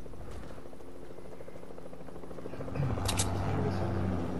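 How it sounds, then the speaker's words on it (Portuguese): A video-game helicopter drones with a steady low rotor hum that swells louder toward the end, joined by a brief higher whine, heard continuously under game sounds. "Ó, o helicóptero."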